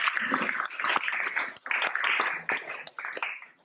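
Audience applause at a Vyasa Puja gathering in Dallas, a quiet, fairly brief burst of many hands clapping at a distance, with irregular swells and dips.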